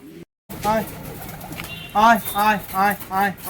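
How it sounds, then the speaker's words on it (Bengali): Native pigeons coo in a series of distinct, rhythmic throaty calls, close and fairly loud, following a brief dropout at the start. "আপনারা দেখতে পাচ্ছেন অনেক দেশি পায়রা রয়েছে"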